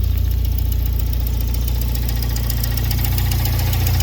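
A Fiat 1.4 8V FIRE car engine idles with a steady low rumble and a rhythmic, scraping knock from a rubbing fault running through it, heard up close without any talking.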